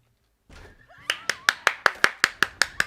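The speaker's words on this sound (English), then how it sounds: "Round of applause, everybody." About ten sharp, evenly spaced claps ring out close and loud, each with a quick bright snap, building into a steady rhythm after a brief rustle, in a Dead by Daylight game.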